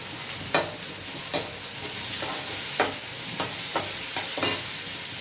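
Onion, tomato and green chilli sauté in a pan with a steady sizzle, while a spoon scrapes and stirs in regular strokes roughly every second, close and clear with no talking.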